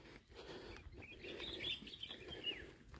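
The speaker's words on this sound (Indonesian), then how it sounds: "Kicauan burung begitu bangun dari kamar aja kedengaran" Birds chirp and call back and forth at the foot of Mount Sindoro in Wonosobo, Central Java, faint and somewhat distant over low outdoor ambience.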